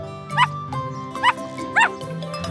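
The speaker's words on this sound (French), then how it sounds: "Le chiot aboie très fort" A cartoon puppy gives three short, high yapping barks spaced about half a second apart over a humming, tonal background in an animated farm scene.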